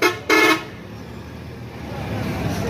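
A cargo bus bound for Karachi sounds its horn in two quick toots, the second longer, then its engine rumbles on as it pulls up at a roadside stop.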